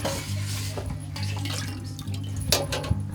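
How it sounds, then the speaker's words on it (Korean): Dishes washed by hand in muddy water without detergent, in a village with a poor water supply in Africa. Water splashes and sloshes continuously with occasional clinks of dishes, over a steady low hum, with no talking. "꾸정물로 설거지를 해."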